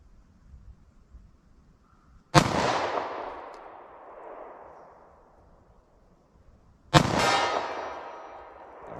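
Two sharp gunshots from a 9mm Sig Sauer compact handgun fired at a steel target 40 yards away, each a loud crack followed by a ringing decay, spaced several seconds apart over a quiet outdoor background.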